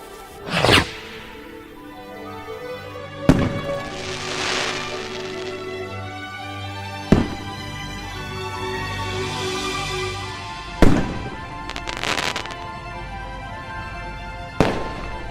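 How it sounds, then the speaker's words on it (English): Fireworks bursting in the video game Foolish Mortals: five sharp, loud cracks spaced a few seconds apart, each followed by a crackling, fizzing shimmer that trails off, with no voices. "and lit the firework"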